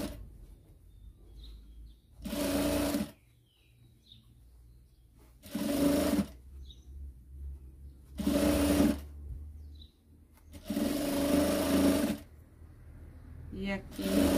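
A sewing machine stitches Christmas-tree fabric scraps in four loud bursts of a couple of seconds each, with quiet pauses between where the fabric is adjusted and short backstitches are run.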